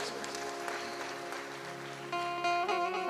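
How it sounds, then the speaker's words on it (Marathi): A women's group claps loudly at a Shiv Mahapuran katha gathering in Jategaon, a dense patter of many hands that grows stronger toward the end, with faint voices in the background. "एकदा तुम्ही तुमच्यासाठी जोरात टाळी वाजवायची"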